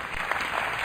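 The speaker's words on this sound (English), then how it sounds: "Go ahead, clap." Sermon audience claps briefly, a short burst of dense, fairly soft applause from a crowd with no voices on top.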